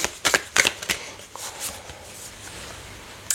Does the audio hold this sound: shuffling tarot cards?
yes